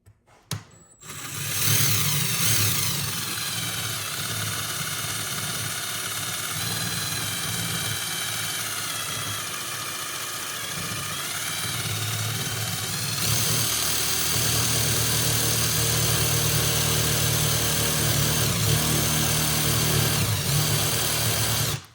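Power drill with a 7/64 bit boring into hard stainless steel, a steady close motor whine that runs for a long stretch, shifting pitch slightly as pressure changes, with a brief start-up burst at the beginning.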